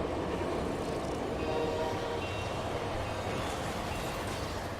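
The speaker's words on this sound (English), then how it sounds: "Another train will pass us soon." A train rumbles past in a StarCraft II co-op mission, a steady, loud rolling roar with faint metallic rail noise holding evenly for about five seconds, with no voices.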